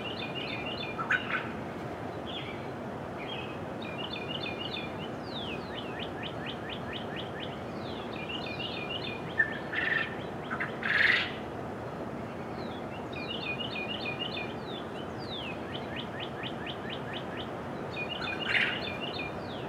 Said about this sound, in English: listen to all the city noise, the birds going on, see if you can pick out which one are the quail crowing